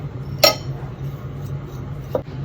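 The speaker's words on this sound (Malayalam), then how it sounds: "ഇതെല്ലാം കൂടെ ഒന്ന് ഇട്ടിട്ട് മിക്സ് ചെയ്ത് കൊടുക്കട്ടെ" A spoon mixes a prawn filling with spices in a bowl, giving two distinct metallic clinks against the bowl about two seconds apart over a low steady hum, with no talk.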